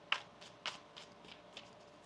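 A tarot card deck is shuffled by hand in a quiet room, with a crisp loud riffle followed by several softer shuffling bursts spaced unevenly apart and no talking.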